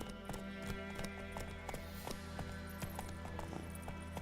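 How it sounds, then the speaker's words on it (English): A horse gallops in a Witcher video game, steady rhythmic clip-clop hoofbeats repeating quickly and evenly over a constant background hum, fairly close and moderately loud, with no voices. "Run, Roach."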